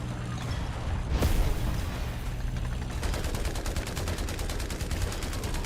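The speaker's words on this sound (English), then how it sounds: "Artillery strike in here." An artillery strike in War Thunder lands with a sharp blast, followed by a rapid stream of gunfire that continues steadily to the end, loud and close.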